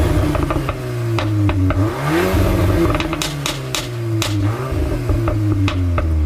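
A VW Golf R MK8 with its stock exhaust revs repeatedly, the engine note rising and falling in loud, close sweeps with some mechanical clatter between pulls.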